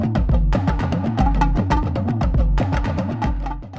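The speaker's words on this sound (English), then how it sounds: "So just the 808 and the talking drums sounds like this." An 808 bass and West African talking drums play a beat: deep booming bass hits under a steady, busy rhythm of pitched drum strikes, loud and continuous.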